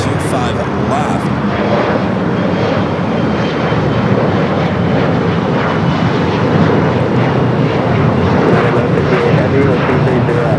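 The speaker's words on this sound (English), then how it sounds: "787-8 Dreamliner, the flight coming from Mexico City, place 646, touching down on 25 left." A Boeing 787-8 Dreamliner arriving from Mexico City touches down on runway 25 left at LAX, its engines a loud sustained roar filling the whole stretch, with radio chatter and commentary running over it.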